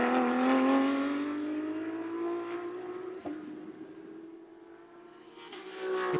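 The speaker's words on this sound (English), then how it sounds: "you just want to hear the rasp of these beautiful 911 GT3 cars" Porsche 911 GT3 Cup race cars in Carrera Cup qualifying at Velocitta give a continuous loud, raspy engine howl that swells and eases as the cars pass, with a sharp brief transient midway.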